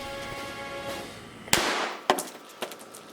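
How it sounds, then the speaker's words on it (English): Firecracker set off in a homemade cannon outdoors on the 4th of July: one sharp bang followed by two smaller cracks, loud and close. "I lit the firecracker, put them both in the barrel, and then got to a safe distance, and then it went off"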